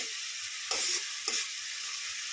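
Pumpkin stir-fried in a pan for a Bengali dish, a steady sizzle with two short scraping stirs of the spatula, close and fairly quiet.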